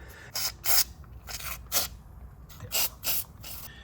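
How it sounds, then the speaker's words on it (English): Several short hissing bursts of a PB Blaster penetrant aerosol can sprayed on a Nissan Frontier engine, close up, in quick uneven pulses with brief pauses between. "I'm gonna spray some of this Pumy Blaster"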